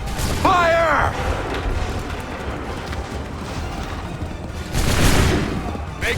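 Musket volley in Assassin's Creed 3, a shouted command followed by a rolling crash of massed musket fire, then a second loud volley burst near the end, with battle noise between.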